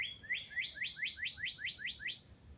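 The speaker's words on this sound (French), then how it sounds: "Il y a un oiseau qui commence à chanter, là." A small bird sings a quick series of about eight rising, sweeping chirps at an even pace, fairly faint and alone over quiet background noise.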